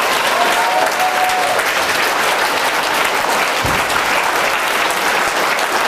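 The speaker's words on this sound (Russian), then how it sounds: "This clapping is for all of you" A seminar audience claps continuously, a dense, loud, steady wash of applause with no pauses from start to finish.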